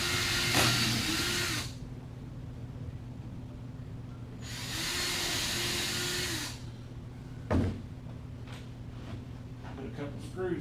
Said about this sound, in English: Put a couple screws in it.